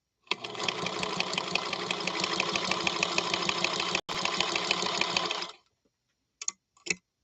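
Close and loud, a Singer Featherweight sews standard cotton fabric in one fast continuous run of about five seconds with a split-second break, then stops, followed by a few faint clicks.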